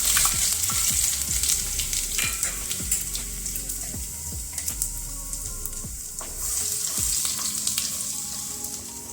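Cumin, garlic and ginger sizzle in hot oil in a pan, a steady crackling hiss with sharp spattering pops and occasional stirring scrapes, close and loud.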